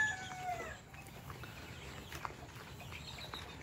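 Chickens cluck and call intermittently on a poultry farm, with a few sharper squawks over a steady background hum.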